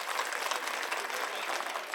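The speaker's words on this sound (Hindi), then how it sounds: "ताली बजावा सब जने।" A crowd at a political election rally in Delhi claps loudly and steadily, dense applause with no pauses, close and filling the whole moment.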